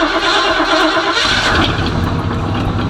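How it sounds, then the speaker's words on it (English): An Oldsmobile Cutlass engine cranks and catches on a cold start, then settles into a steady rumbling idle, loud and close with no talking. "Give y'all a quick little cold start."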